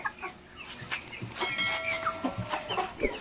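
Índio Gigante chickens, including a young chick and pullets, clucking and calling in repeated short bursts close by, with overlapping voices from several birds and no speech.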